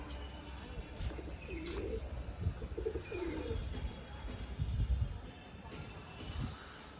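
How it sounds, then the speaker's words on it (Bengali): Soft, low cooing from a male Kalshila pigeon comes in a few gentle burbling phrases over a quiet, slightly noisy background. "খুব অ্যাক্টিভ নর পায়রা একদম হাতে থাকতে চাইছে না"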